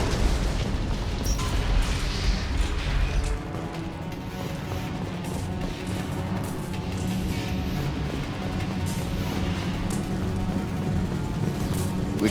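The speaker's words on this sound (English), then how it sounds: "Sounds like heavy fire." Heavy gunfire and explosions in the video game Mass Effect 2, a dense, continuous roar of booms and rumbling blasts that stays loud throughout, heaviest in the opening seconds.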